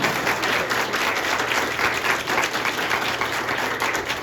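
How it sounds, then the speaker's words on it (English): An audience gives two speakers a big round of applause at a community talk, a dense, even roar of many clapping hands that holds steady for a few seconds. "let's give our two speakers a big round of applause."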